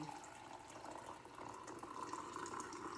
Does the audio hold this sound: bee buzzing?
no